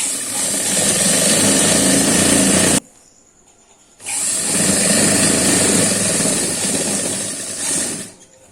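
A sewing machine stitches kurti jacket fabric and lining in two loud, steady whirring runs close by, split by a short pause of near silence.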